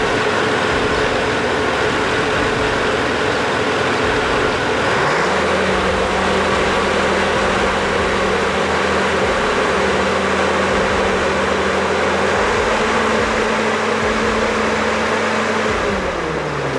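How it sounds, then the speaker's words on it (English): Large old V12 or V16 main engine, a chunk of heavy iron, running with a deep steady drone that thickens into a stronger, lower hum midway, loud and continuous with no voices. "Its V12, or V16, main engine breathes in deep, powerful lungfuls"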